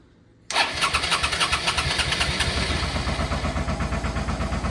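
A 2007 Suzuki DL650 motorcycle engine fires up abruptly after a moment of quiet, then settles into a loud, close, throbbing idle with a steady pulsing rhythm.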